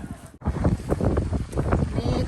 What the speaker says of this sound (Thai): โอ้ยลมก็แรงค่ะ